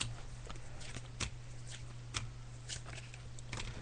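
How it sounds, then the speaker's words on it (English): Tarot cards being shuffled during a psychic reading: soft, faint riffling and scattered light taps over a steady low hum, with no talking. "I'm just shuffling the cards"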